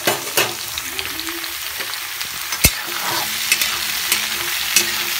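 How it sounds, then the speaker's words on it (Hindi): Mushrooms for mushroom masala frying in a pan until golden brown, a loud continuous close sizzle broken by occasional clicks and knocks of a stirring spoon. "गोल्डन ब्राउन होने तक हमें इसे फ्राई करना है।"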